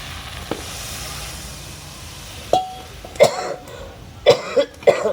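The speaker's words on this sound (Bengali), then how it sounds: "খুব কাশি হচ্ছে" Harsh, raspy coughs from a person with a cold come in a cluster of sharp bursts near the end, over a low steady sizzle of a spiced curry simmering in a home kitchen. No one speaks.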